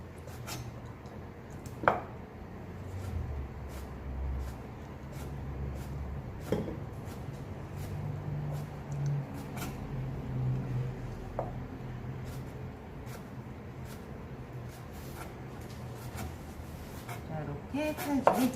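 Quiet, irregular knife strokes slicing meat on a cutting board in single firm strokes, with soft thuds and scrapes spread through the clip and a few sharper knocks.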